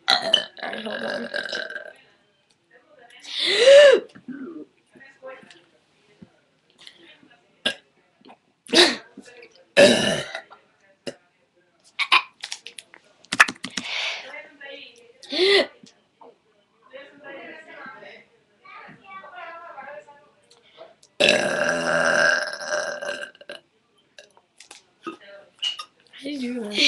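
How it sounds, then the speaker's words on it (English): Burps erupt during a casual burp contest among friends, several loud separate belches spread across the stretch, mixed with laughter, throat noises and chatter in a quiet room. "I don't know how to make myself burp."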